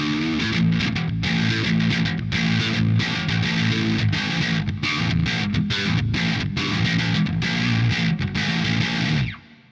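Electric guitar played through a Helix Stadium XL with Dynamic Bloom reverb and chorus, a worship-style tone: loud, sustained chords and notes ringing continuously and close, fading out at the end.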